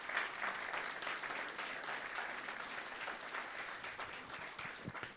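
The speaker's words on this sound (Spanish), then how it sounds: "Fuertes aplausos." A church congregation at a special worship service applauds a choir and a music group, a fairly quiet, even spread of many hands clapping from a distance, with no voices heard.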